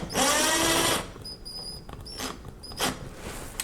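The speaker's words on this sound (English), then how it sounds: "Trying to keep this straight and get the screw in." A power driver sends a screw into a wall while a smart thermostat is mounted. One loud whirring burst is followed by quieter squeaks, scrapes and a short final spin, close up.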